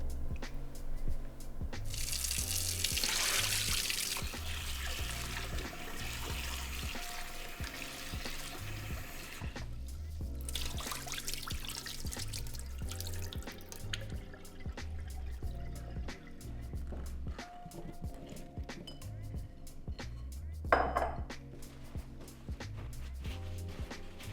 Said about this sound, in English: we're going to give them a good rinse under the cold water